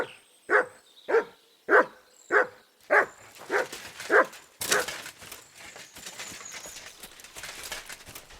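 Mutt, the dog in Kingdom Come Deliverance 2, gives seven evenly spaced sharp barks up close, then a clattering of hooves and ambient game sounds take over as the barking stops.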